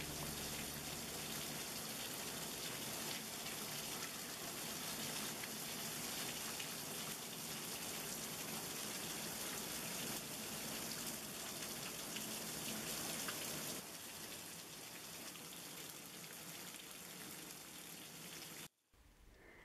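Steady rain pours down on a home garden, a dense, even hiss of drops close by that continues without a break, then quietens and cuts off near the end.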